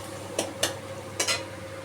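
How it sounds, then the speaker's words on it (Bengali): Spice masala with ginger sautéing in oil in a pan for an eggplant curry: a low steady sizzle broken by three or four sharp scraping stirs of a spoon, close and alone. "আমি এটাকে কষাবো যতক্ষণ না মশলার থেকে আদার গন্ধটা যতক্ষণ না হচ্ছে ততক্ষণ কষাতে হবে"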